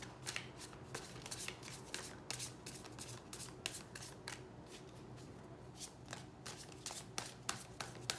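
Tarot cards shuffled by hand in quick repeated riffles and slides, a steady run of crisp papery bursts lasting the whole stretch, close and clear with no talking.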